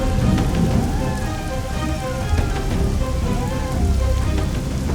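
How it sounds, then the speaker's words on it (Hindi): Heavy monsoon-style rain pours steadily as a sound effect for a night horror story, a loud dense hiss with faint rumbles and tonal warbles running underneath, and no voices. "कितनी तेज बारिश आ गई।"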